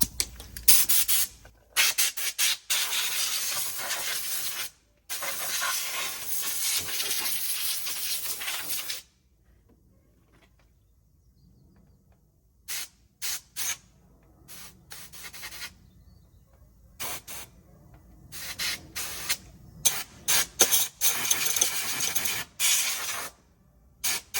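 Compressed air blows over a rare four-door Suzuki Swift Saloon that is being repaired after vandalism. A long, close hissing blast is followed by a quiet pause, then a run of short, sharp intermittent bursts.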